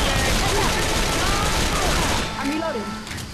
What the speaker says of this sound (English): Fucking sake, Robbie, stop shooting